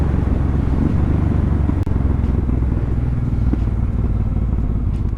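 A Honda Transalp converted to a supermoto, its engine droning loud and steady while riding, a continuous close rumble with a brief dip partway through.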